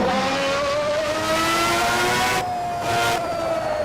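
A video-game F1 car at Suzuka screams close and loud, engine pitch climbing and dropping through gear shifts in a steady high-revving whine.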